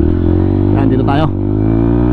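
A motorcycle engine hums steadily and loudly while riding through Cagayan de Oro, a constant close drone with a brief rise in the middle, as a person speaks over it.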